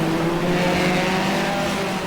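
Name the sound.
Classic Hot Rod race cars racing at Northampton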